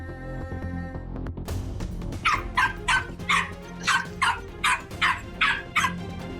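A pet dog named Jimmy barks about nine times in a steady rhythm, loud and close, following a quieter stretch of background sound.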